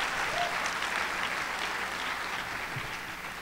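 Audience at a 2014 high school graduation ceremony applauds steadily, a dense, even wash of clapping that holds throughout and eases slightly toward the end.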